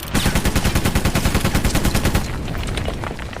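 Rapid machine gun fire used as a sound effect in an intro edit, a loud, steady string of dense bursts for about two seconds before tapering into a softer rattling tail.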